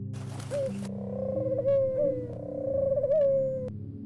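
A bird in an eerie analog horror scene gives a short flutter, then wavering coo-like calls over a low, droning musical bed, fairly close and clear.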